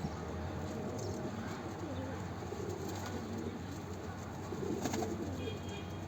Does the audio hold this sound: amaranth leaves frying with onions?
no